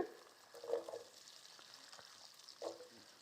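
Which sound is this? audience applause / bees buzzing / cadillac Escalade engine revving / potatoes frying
potatoes frying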